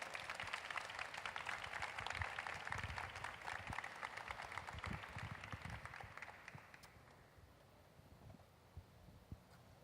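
An audience greets a woman welcomed at an Ashoka network event with a round of applause, clapping that is fairly soft and distant, with scattered sharper claps, fading out after several seconds.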